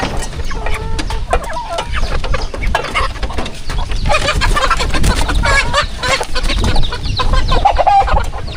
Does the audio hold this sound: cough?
no